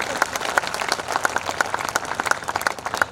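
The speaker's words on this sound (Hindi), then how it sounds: "तालियां ऐसी बजाओ कि कवि कहे क्या बात है" Audience applause at a Hindi comic poetry gathering in Palamu, a steady dense clapping from a crowd that runs the whole few seconds with no talking over it.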